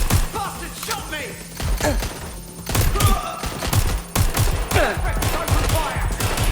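Rapid bursts of gunfire in the video game Watch Dogs Legion, with loud repeated shots and fusillades coming in waves over several seconds, mixed with thuds and an excited voice talking over the action.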